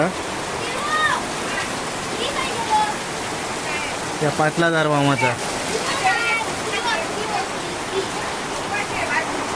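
Heavy monsoon rain pours steadily in Devgad, Konkan, a constant roaring wash close by, while a person speaks briefly midway over it.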